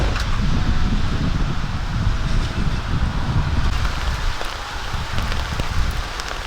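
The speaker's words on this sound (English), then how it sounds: "it is raining today, which was not part of the plan" Steady rain falls outside, a dense continuous patter that stays even and fairly loud throughout, with occasional brief drops and faint rustling on top.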